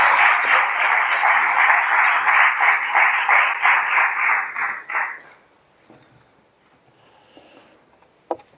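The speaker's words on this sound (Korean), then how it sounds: "박수로 맞이해 주시기 바랍니다." An audience at a founding general assembly applauds steadily for about five seconds, the clapping dense and close before tapering off into a quiet room with faint rustling and one sharp knock.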